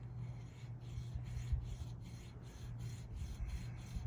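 A file rasps steadily back and forth, cutting string slots into a classical guitar nut, with quick repeated strokes close up and no talk.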